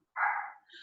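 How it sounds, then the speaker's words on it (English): Household dogs bark once in the distance, a single muffled bark followed by a softer trailing yip, faint and heard from another room. "My dogs are barking up a storm."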